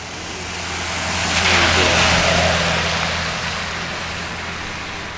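A car speeds past on a road without braking, its engine and tire rush swelling to a peak, then fading as it goes by, with a steady low hum throughout.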